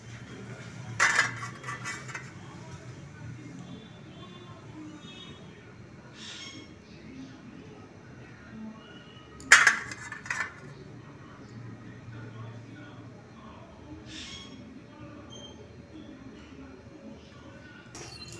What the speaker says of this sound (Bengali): এবারে 3টে ডিমকে ভালোভাবে এই কাঁটা চামচ দিয়ে এরকম করে ফুটো করে নেব।